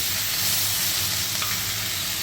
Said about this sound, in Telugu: ఇప్పుడు నేను ధనియాలు, జీలకర్ర వేయిస్తున్నాను